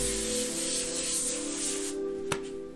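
An Affinity airbrush spraying paint for graffiti-style art gives a steady, close, broad airy hiss lasting the whole moment, with a faint hum beneath and one sharp click near the end.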